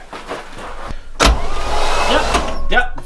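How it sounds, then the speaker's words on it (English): A 1959 Corvette engine, untouched for 30 years, cranks over on the starter to check for spark, giving a sudden loud burst and then a steady whirring churn that continues to the end. "What we're gonna do, Justin, is just gonna bump it over again like you were doing, just to see if there's spark"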